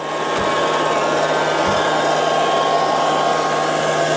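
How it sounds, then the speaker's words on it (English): A Liectroux B3000 robot vacuum sweeps under furniture with a steady, close, loud motor whir, two faint bumps early on, and no voices. "underneath the furniture, gives a good sweep in areas that we would have difficulty getting a larger vacuum cleaner"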